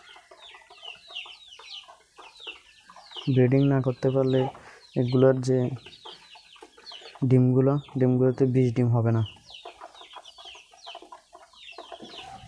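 Two chickens cluck loudly in bursts of repeated calls, close by among cooing pigeons kept for breeding, while someone speaks over the birds.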